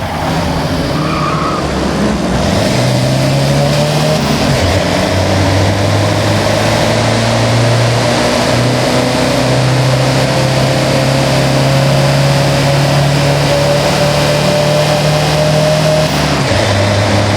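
A convoy of 4x4 vehicles, among them a Mitsubishi Montero, in the Forza Horizon racing game, engines droning and revving with rising and falling pitch, tires squealing and skidding throughout, loud and continuous.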